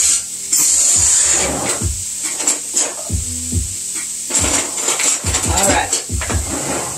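Spoons and cooking utensils clatter and scrape in a kitchen, intermittent knocks and rubbing clinks beneath a person talking, with a steady hiss in the background.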